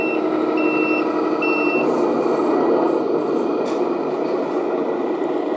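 A heavy UNITRU 10X10 tractor truck engine in a video game drones steadily and close, with a repeating electronic beep pattern over the rumble early on.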